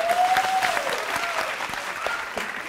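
Steady clapping from a studio audience on a Thai comedy show, moderately loud and continuous, with a faint whistle-like tone near the start.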